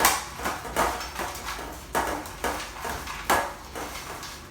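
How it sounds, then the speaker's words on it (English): Quorn mince stirred around in a dish for enchiladas: a series of soft, evenly spaced scraping clinks of a utensil against the dish, fairly close and quiet, with no talking. "we're just going to give this a little mix around, and this will just add a little bit of flavour to the corn mince"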